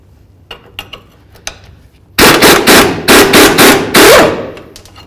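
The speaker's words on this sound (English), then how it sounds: "Now we're going to remove the lower bolt right here, using 18 on this side and a 21mm on the nut side." Removing the lower rear shock bolt on a 1992–99 GMC K1500 pickup with 18 mm and 21 mm wrenches: a burst of loud, rapid metallic rattling bangs, close up, after quieter scattered clicks.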